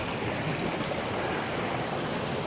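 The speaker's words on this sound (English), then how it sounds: "have the stream here." A mountain stream rushing steadily nearby, a dense, continuous broadband roar of flowing water with no breaks and no voices.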